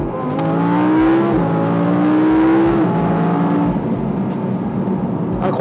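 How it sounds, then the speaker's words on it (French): An Audi R8 V10 Plus V10 engine revving up loudly and close, climbing in pitch, dropping back and rising again before settling into a sustained throaty roar, with no talking. "c'est plutôt le V10. Écoutez-moi ça."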